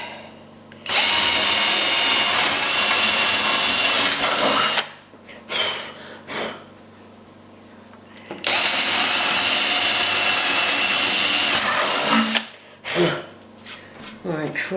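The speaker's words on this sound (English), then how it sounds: "I'm using an 8 drill bit." Two long bursts of a power drill boring with a size 8 bit while building a DIY motorised elevated bed lift, each lasting about four seconds at steady high speed, with brief handling noises and short clatters between them.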